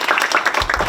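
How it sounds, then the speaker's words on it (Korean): A brief burst of audience applause at a women's and family policy forum, a dense patter of many hands filling the hall for under a second. "박수 부탁드립니다"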